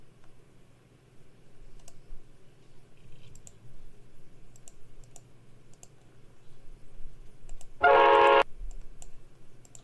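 Train horn from a Roblox train game sounds in one short, loud blast partway through, standing out over faint background clicking.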